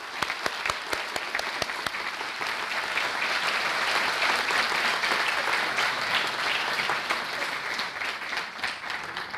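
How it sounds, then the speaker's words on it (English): An audience at an organic chemistry competition event gives a round of applause: a few distinct claps at first swell into dense, steady clapping that holds and then slowly thins toward the end. "So please, join me in giving Professor Haddadin a round of applause"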